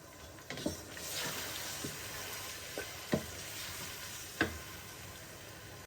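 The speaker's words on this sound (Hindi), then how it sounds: "नाजरीन मसाला हमारा भुन रहा है" Tomato and green chili masala frying in a pan, a soft steady sizzle punctuated by a few distinct stirring taps and scrapes, close and moderately quiet.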